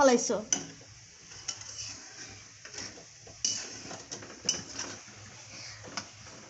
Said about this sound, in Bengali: আমি আজকে আলু ফ্রাই করছি